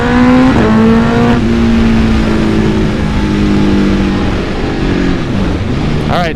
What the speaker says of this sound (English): this exhaust is super loud. You guys can probably hear it